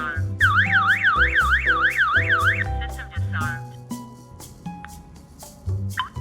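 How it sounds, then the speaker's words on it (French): The PG-109 alarm host sounds its SOS siren, a loud warbling electronic tone rising and falling rapidly for about two seconds, followed by a run of short synthesized beeps and tones. "SOS alarm."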